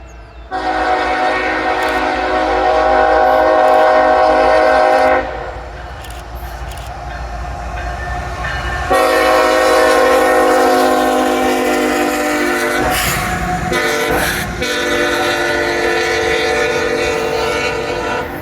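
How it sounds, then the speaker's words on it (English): A heavy northbound CSX freight train rumbles past close by in Cowan, Tennessee, its loud horn blaring in long sustained blasts over the steady roar of rolling cars. "there's already a train coming"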